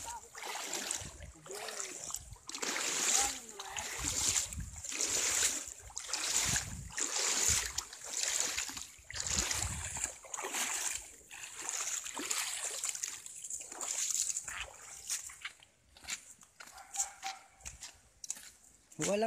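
Water from a natural spring flows outdoors along a creek, with splashing and gurgling that rise and fall throughout. People talk over the water at close range.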